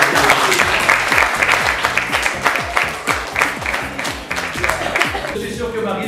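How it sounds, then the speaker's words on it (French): Audience applause at a ceremony in the Château de la Batisse, Chanonat, Puy-de-Dôme: loud, sustained clapping from a crowd with some voices mixed in, continuing steadily throughout. "On peut l'applaudir."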